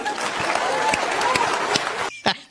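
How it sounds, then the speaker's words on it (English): Audience clapping in a replayed political broadcast clip, a sustained burst of applause with sharp individual claps that cuts off abruptly near the end, followed by a few scattered sounds. "And they clapped."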